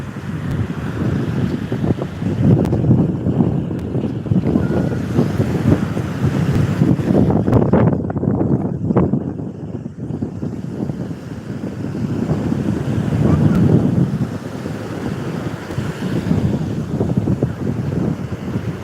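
Waves surge onto a village beach under strong gusting wind that buffets the microphone, making a steady loud roar with swelling peaks and no voices.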